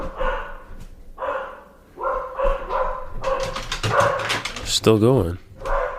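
Dogs barking in bursts of sharp barks and yips, mixed with a whine, fairly close and loud, while people talk over and between the barking.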